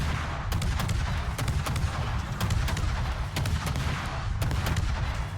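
Rapid gunfire from a Druid gunboat in a naval video game, with a fast one-second reload: dense, steady booming shots that repeat in quick succession for the whole stretch, loud and close with no talk over them.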